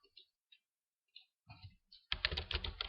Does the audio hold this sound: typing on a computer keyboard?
yes